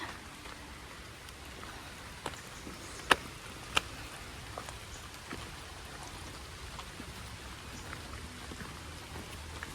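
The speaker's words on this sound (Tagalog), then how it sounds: "Kahit umaambon." Light rain drizzles steadily outdoors near La Mesa Dam, a soft even patter with a few sharper drop ticks around the middle, faint and continuous with no talking.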